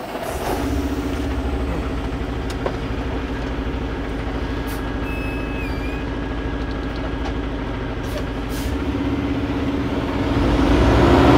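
A semi truck idles and creeps forward in a steady low diesel rumble, close and continuous, building slightly louder near the end with faint hiss and clatter around it.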